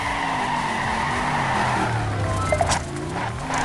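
Tires squeal through a handbrake turn in the mobile racing game Torque Burnout, a steady engine drone with rising skid tones and a couple of short scrapes near the end.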